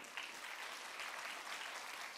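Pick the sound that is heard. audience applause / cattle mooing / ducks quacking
audience applause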